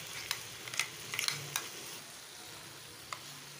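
Fresh cream being stirred into frying onions for an onion gravy, a quiet steady sizzle with a few light spoon clicks against the pan, close and without talking.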